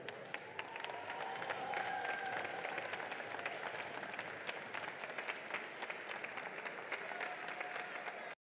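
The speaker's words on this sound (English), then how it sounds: "please give a warm welcome and a big round of applause for Gray New" An audience claps steadily for several seconds, a full, sustained round of applause from a large crowd at a FIRST Robotics Competition event that stops abruptly.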